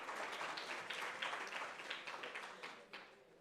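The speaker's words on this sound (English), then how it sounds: "Can you clap hands for her?" Faint, steady applause from a large audience at a summit event, with hands clapping continuously and scattered voices mixed in. Several louder bursts stand out before it tapers slightly.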